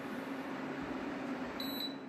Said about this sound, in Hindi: ऑन होने के बाद शायद आपने सुना हो फैंस की आवाज़ आ रही है इसकी।